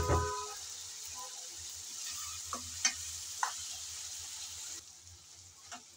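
Prawn fry cooks under a lid in a pan, giving a steady soft sizzle with a few light clicks and knocks. The sizzle drops quieter near the end.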